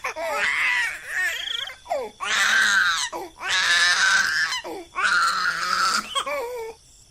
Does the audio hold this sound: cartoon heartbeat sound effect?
no